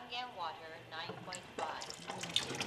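Alkaline 9.5 water streams from a Kangen water machine into a quart container, a steady splashing flow that sits under a voice and grows more prominent toward the end.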